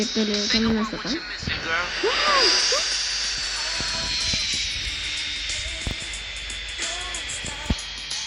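A continuous high airplane engine whine with a steady hiss runs throughout GTA San Andreas gameplay, while chirpy synthetic game effects and short clicks pop in and out over it.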